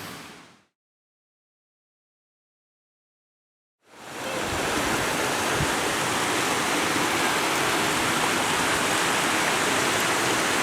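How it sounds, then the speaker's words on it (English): A small waterfall pours into a rocky pool along a bush walk by Piesse Brook, a steady broadband rush of falling water. It starts after a few seconds of near silence and then holds even and continuous, with no voices. "There we go, a little waterfall going down into Rocky Pool."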